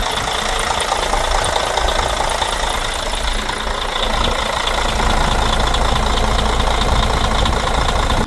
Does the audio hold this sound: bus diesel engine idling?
yes